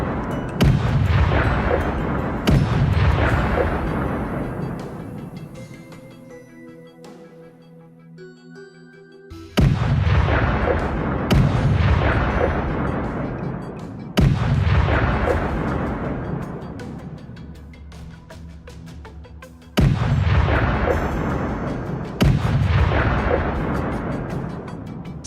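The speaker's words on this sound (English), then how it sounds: "another shot rings out from a different position" Rifle shots fire during a wild boar hunt, loud sharp reports that come in pairs and echo long across open ground, heard alone with no talk.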